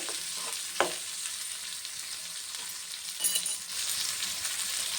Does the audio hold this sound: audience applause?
no